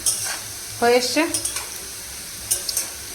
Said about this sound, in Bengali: তো চলো এবার আলু ভাজা ভেজে নিই আলুটা ভেজে নিই